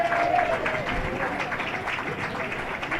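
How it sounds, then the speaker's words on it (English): A crowd applauds graduating lacrosse seniors at a school spring weekend event, dense steady clapping sustained throughout with a voice faintly audible at the start. "please join me in one last round of applause for all these seniors"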